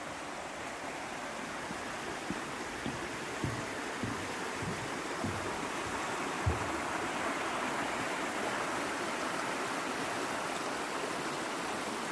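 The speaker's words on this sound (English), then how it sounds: "I'm just heading up to the point where you cross the brook above Edale" A brook flowing above Edale in the Peak District on a January day, giving a steady, full-bodied rush of water with soft low knocks, continuous and fairly close, with no voices.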